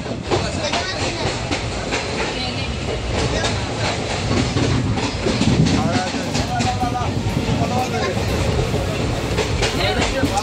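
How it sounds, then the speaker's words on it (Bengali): A passenger train on a Sundarbans to Tarapith trip runs steadily after departure, its continuous loud rumble and rhythmic wheel clatter filling the carriage while people talk faintly underneath. "ট্রেন ছেড়েছে"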